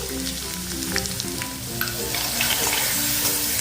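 Chopped onion hits hot oil in a pan for a peanut amti curry, giving a loud, continuous sizzle and crackle with some stirring, close up and with no talking.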